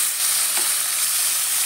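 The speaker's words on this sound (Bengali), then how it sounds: "তেলটা গরম হয়ে গেলে তার মধ্যে মাছগুলো দিয়ে ভেজে নেব।" Small fish fry in hot oil with a steady, loud, close sizzle and hiss that does not let up, with no voices over it.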